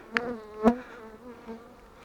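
Honey bees buzz around hive frames during an August honey harvest. A faint, steady drone carries a couple of sharper buzzes as single bees pass close, with no talking.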